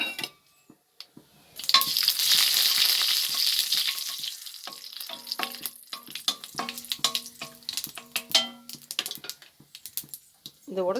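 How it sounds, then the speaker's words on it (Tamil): Mustard seeds, cinnamon and fennel frying in oil for egg kuzhambu, a sudden loud sizzle and crackle that eases into popping and stirring clatter, with a voice speaking briefly near the end. "கடுகு பட்டை சோம்பு போட்டாச்சு"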